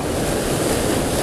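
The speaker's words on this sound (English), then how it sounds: "Problem is the wind is blowing straight towards me here." Wind blowing hard onshore at the seashore during surf fishing, a loud, continuous roar of gusts buffeting the microphone and mixed with breaking surf, with no breaks.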